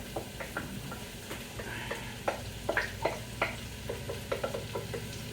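Onions and celery frying in a pot for curried carrot and apple soup, with a steady soft sizzle under repeated scraping clicks and knocks of a spoon stirring, close and moderately quiet.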